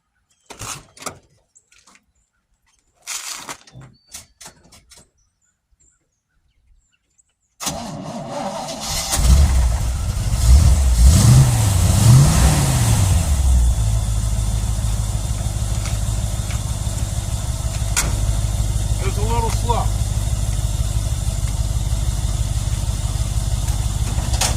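A Chevrolet Envoy is started on a cold day: a few faint clicks and clunks, then the engine cranks and catches, revs briefly and settles into a loud, steady close idle.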